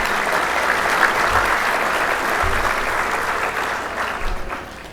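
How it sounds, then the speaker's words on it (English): Steady, dense applause from a luncheon audience at a 2019 State of the City address, many hands clapping together for several seconds and easing off slightly toward the end. "Let's give all those guys a big round of applause."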